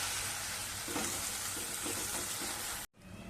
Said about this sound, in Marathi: मसाला चांगला मिसळून घेऊया